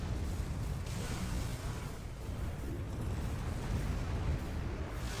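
Continuous, dense explosive roar from napalm bombs in the Godzilla Save the Earth video game, a sustained rumbling blast texture with no pauses and no voices over it.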